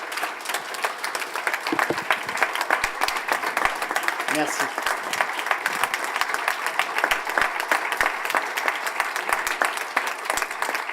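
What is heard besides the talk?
audience applause at end of conference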